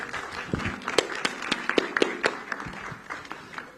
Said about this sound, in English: This really deserves an applause.